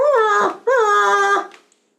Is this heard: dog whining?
yes